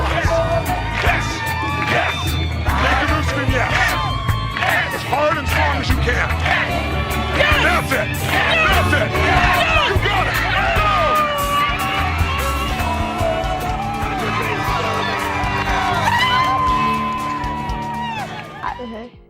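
A large crowd at a fire-walk event, walking across hot coals, screams and shouts together in loud, dense, overlapping bursts that keep going without a break.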